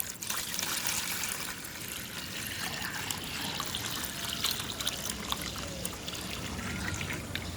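A homemade organic liquid plant tonic, about 150 ml, poured into 5 litres of water, making a continuous trickling, splashing pour that stays fairly loud and steady from start to finish.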